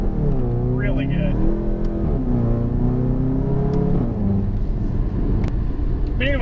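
Interior drone of a VW MK7 GTI on Cobb Stage 3 tune with a catless downpipe, engine note rising and falling through gear changes, loud and close, while a person talks over it.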